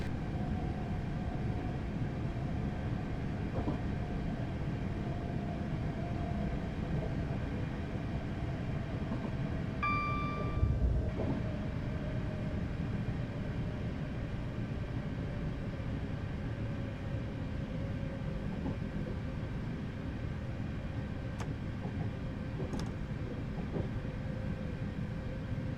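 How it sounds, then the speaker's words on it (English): Class 444 electric multiple unit in Train Simulator 2015 rumbling steadily under brake application, a continuous low drone with a slowly falling tone and a brief clunk partway through, no talk. "I'm applying the brakes to number 2 on the brake gauge, which should slow us down about right"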